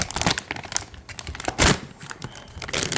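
Scissors cut open a 5-gallon Mylar bag with crinkling, tearing rustles in uneven bursts, close and fairly loud, with one sharper crackle midway.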